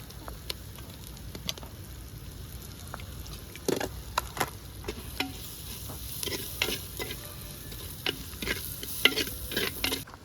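Ginger garlic paste and four green chillies frying in a pan for a gongura prawn fry, a low steady sizzle broken by frequent clattering spoon scrapes and taps, close by.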